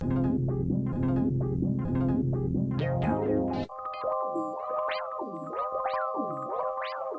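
Heavily processed synth tones with distortion and chorus, first a pulsing rhythmic pattern, then warbling pitch-bending notes sweeping up and down, loud and continuous.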